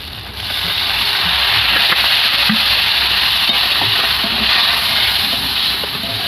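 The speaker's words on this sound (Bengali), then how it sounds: "তো এবার আমি এর মধ্যে দেবো জল।" Water hits a hot mustard and poppy seed spice paste frying in oil for a fish curry. A sudden loud burst of hissing sizzle holds strong and steady after a brief quiet start.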